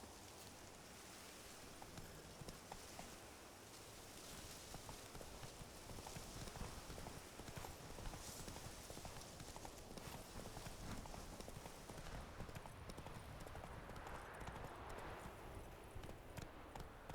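The horse Roach gallops in The Witcher 3, with rapid, rhythmic hoofbeats pounding steadily close by over a soft hiss of rain and wind, faint and continuous throughout.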